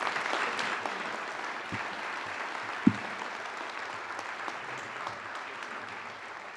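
Steady applause from a large audience at a sports hall of fame induction ceremony, a continuous wash of clapping with no voices on top, holding at an even level throughout.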